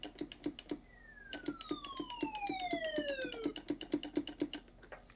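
Galaga '88 arcade game sounds play loudly through the original cabinet speakers: rapid rhythmic beeping pulses with a long descending sweep in the middle, no talking.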